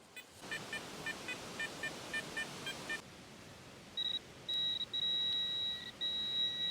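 A metal detector sweeping a field gives a run of short, evenly spaced beeps, then longer sustained tones with brief gaps, faint over a soft hiss.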